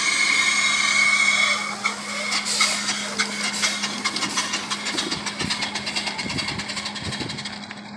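A 1901 Conrad Model 65 steam carriage running on its first drive in 110 years, with a steady hiss followed by rapid rhythmic chuffing and clattering close by.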